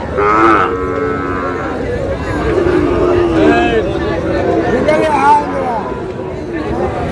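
Sahiwal bulls and calves at a Chattogram cattle market moo repeatedly, several long drawn calls rising over a constant crowd hubbub of many voices talking.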